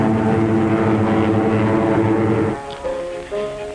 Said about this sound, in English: Your own American P-47, the Thunderbolt, side by side with a graceful spit.